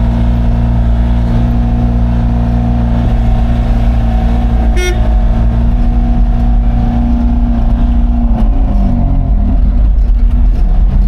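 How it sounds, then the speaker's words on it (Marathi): A loaded vehicle pulls up to a rice mill with a steady, loud engine drone, and a brief horn toot sounds partway through. No one speaks. "गाडी येऊन जागेवर लागली."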